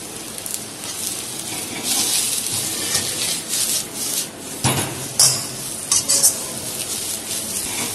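Mushrooms, bean sprouts and cabbage sautéing in a pan for a Chinese dish, with a steady loud sizzle broken by repeated scraping and clattering of a utensil stirring against the pan.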